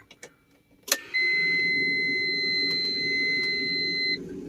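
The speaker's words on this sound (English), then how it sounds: "Fire up the truck." A truck engine cranks with a sharp jolt and catches, settling into a steady low idle rumble outdoors on a cold, windy day, while a high electronic warning beep sounds continuously over it for about three seconds.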